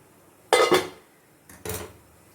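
A lid lifted off a steaming pot of ragi aval kozhukattai: two short metallic clatters of the lid against the pot, about a second apart, close up in an otherwise quiet kitchen.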